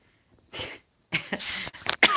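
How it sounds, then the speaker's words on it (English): Several dry coughs from one person up close, a single short cough followed by a longer burst of rough hacking coughs after a brief pause. "The cough now."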